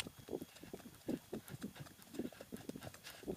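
Hooves of a large, long-bodied Icelandic horse clip-clopping in a quick, steady rhythm of soft thuds, moderately close, with no talking.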